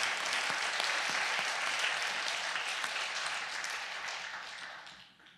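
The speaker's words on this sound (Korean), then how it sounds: "우리 감사의 박수 한번" A church congregation gives a long round of dense, steady applause, full and even before it gradually tapers off at the end.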